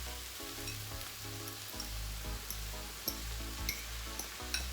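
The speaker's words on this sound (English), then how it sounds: "I'm going to add in the saltfish, a little bit of green seasoning, and the thyme right now." Onions, saltfish, green seasoning and thyme frying in a pan, a steady broadband sizzle with soft crackles and occasional sharper pops, close and fairly quiet, with no talking.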